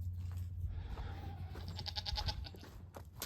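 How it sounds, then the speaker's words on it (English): Goats bleating on a farm ahead of a snowstorm, several short nasal bleats from close by, one clearer cry near the middle, over a low rumbling wind-like background. "I hear you, goats."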